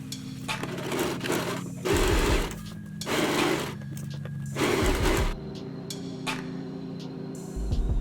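A sewing machine runs in several short bursts while stitching a sleeve seam on a puff-sleeve top, each whirring run lasting about a second, with quiet pauses between, close and clear.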